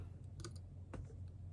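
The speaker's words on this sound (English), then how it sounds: "Now I'm able to type the password." A password typed on a computer keyboard while setting up a Windows Server 2019 machine comes through as a few faint, sparse key clicks over a low steady hum.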